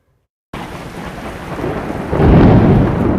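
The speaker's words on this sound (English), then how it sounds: "Severe and non-severe thunderstorms are very common in our area." A thunderstorm rolls in with steady heavy rain and deep rumbling thunder that builds louder toward the end, loud and close with no voices.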